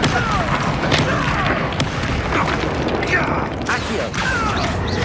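Blasting-spell explosions in Hogwarts Legacy combat, loud booming impacts and crashes stacked in a steady stream of battle noise, with spoken spell shouts mixed in.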